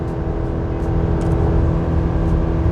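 A Chevy 1500 pickup's 2.7L turbocharged four-cylinder engine is held near 5,000 RPM while towing up a grade, producing a steady, loud, droning engine hum inside the cab with no talk.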